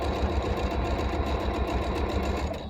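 A sewing machine runs steadily as it stitches a straight seam across quilt strips, a close, continuous mechanical whir with a fast, even rhythm and no talking.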